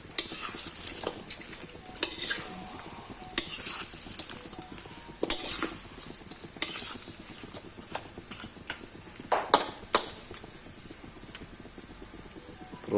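Shrimp go into a hot pan and fry, giving a soft sizzle broken by scattered clinks and scrapes of a utensil against the pan, fairly quiet with no talk.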